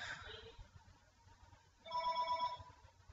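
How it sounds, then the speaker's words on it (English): A telephone rings faintly in the background in two short bursts with a pause between, set against a quiet room. "My phone is ringing."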